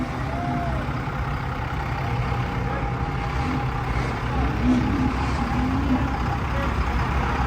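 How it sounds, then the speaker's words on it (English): A Cummins diesel engine in a truck at the SEMA 2025 show runs in a steady, moderately loud rumble, with faint people talking and general crowd noise from the surrounding hall. "Listen to this Cummins powered."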